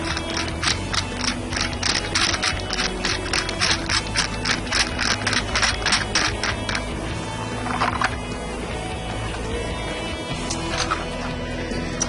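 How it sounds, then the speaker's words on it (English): A rapid, steady ratcheting click from screws being driven in to fasten parts onto the squeegee of a Karcher B90 floor scrubber, loud and close, clicking continuously for most of the stretch before trailing off into mechanical rattles. "Just screw those in."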